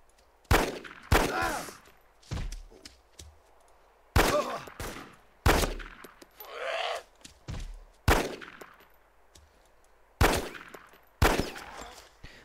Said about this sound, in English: do you hear that gunshot? That means there's a bandit somewhere.